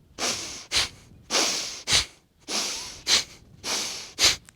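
Forceful yoga breathing through the nose repeats in a steady rhythm, each long breath followed by a short sharp snort-like exhale, four cycles close and clear with silence between.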